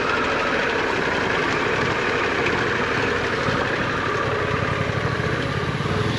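Harley Davidson Pan America 1250 adventure motorcycle engine running steadily, a loud continuous rumbling drone with a faint pulsing beat, close by and unbroken, no voices.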